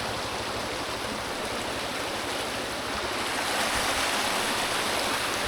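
Loud, steady rush of fast-flowing stream water after Cyclone Ditwah, a broad continuous roar close by with no voices.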